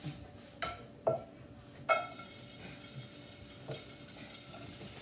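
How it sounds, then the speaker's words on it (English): Garlic sautéing in a pan over a gas flame, a soft continuous sizzle punctuated by several sharp clinks and scrapes of a utensil against the pan. "let me put this back on the flame and put the garlic in it"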